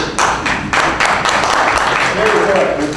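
An audience claps at a debate for Georgia State School Superintendent, with bursts of close, fairly loud applause and speech mixed in.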